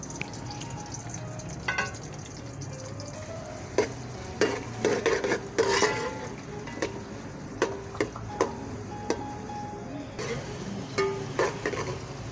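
Three roughly chopped medium onions sauté in half a cup of oil in a cooking pot, a soft continuous sizzle punctuated by scattered clinks and scrapes of a spoon stirring against the metal.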